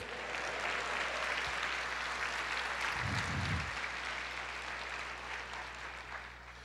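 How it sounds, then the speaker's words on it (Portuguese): A church congregation claps in praise of the Lord during an Easter service, a broad wash of steady applause with a low hum underneath and a brief low thump partway through, slowly fading toward the end. "aplauda o Senhor"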